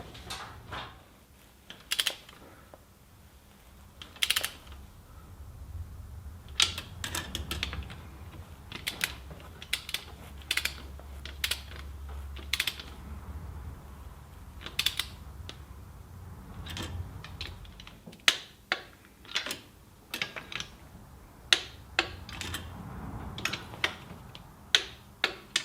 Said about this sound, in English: Right, torque them down.